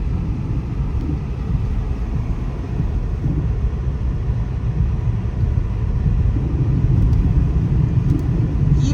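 A Chevy Volt drives over a snowy road with a couple inches of snow, its tires throwing snow up into the wheel well; a steady, loud broadband rumble and hiss continues throughout with no break.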